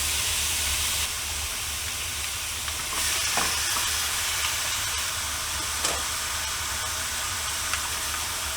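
Ground beef browning in a pot, a steady loud sizzling hiss with a few brief scraping stirs, close and continuous without talk.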